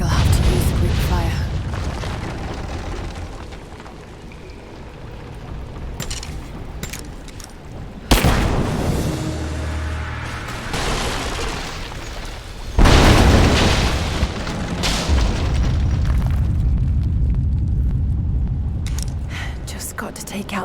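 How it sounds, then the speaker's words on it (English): Greek fire explosions blow out statue supports in Rise of the Tomb Raider, with two heavy booms several seconds apart, each trailing into crumbling rumble and debris, over constant background din and talk. "Looks like I'll have to use Greek fire."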